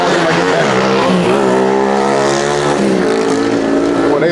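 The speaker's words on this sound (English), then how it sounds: "Boy, they love the motorcycle down here." A motorcycle engine passes along a street, its steady harmonic drone rising and falling in pitch as it goes by, loud and close throughout with continuous traffic noise behind it.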